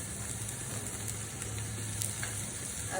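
Chopped onion and dried chilies sizzle steadily in hot oil in a pan, a soft, even frying hiss with faint crackles throughout, quiet and close with no talking.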